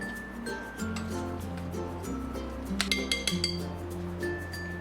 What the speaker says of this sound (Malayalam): നന്നായി യോജിപ്പിച്ചു കൊടുക്കാം.